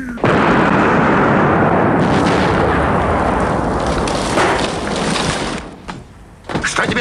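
Loud grenade blasts in a Russian film's final scenes: a sudden booming explosion rolls into a long, dense roar of debris and noise, fades, then another sharp burst hits near the end.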